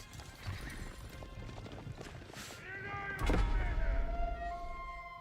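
Horses galloping in the real-time strategy game Age of Empires IV, rapid hoof clip-clop with a neigh and game effects layered in, busy and moderately loud, swelling toward the end.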